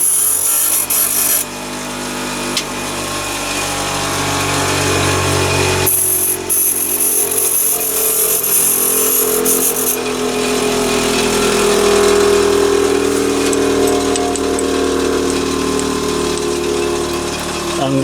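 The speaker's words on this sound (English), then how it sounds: "just round that off on the grinding wheel again" A small metal part for a gun oiler pot is rounded off on a grinding wheel, making a steady, loud grinding rasp that runs continuously throughout at close range.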